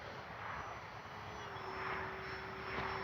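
Kavan Pilatus PC-6 Porter RC model plane's engine, a steady close whine with a sustained high tone and broad airy noise running continuously without pause.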